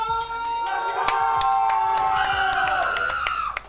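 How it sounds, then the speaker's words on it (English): An esports crowd at a Street Fighter 6 tournament cheers, whoops and claps loudly and continuously, a dense roar of many voices filling a large venue. "Crowd getting hype."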